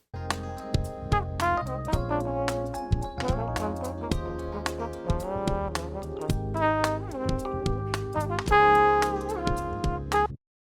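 A small jazz band plays a dry, unprocessed mix, with a trombone buried among horn lines over busy drums, cymbals and bass, then stopping abruptly.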